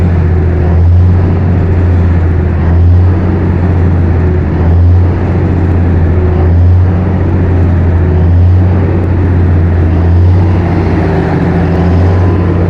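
Cummins 625 kVA diesel generator running, a loud, steady low drone with a slow, regular pulsing throughout.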